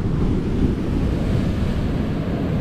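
Ocean surf rolls and breaks steadily along a Dominica shoreline, a continuous loud wash of waves with wind buffeting the microphone and no voices.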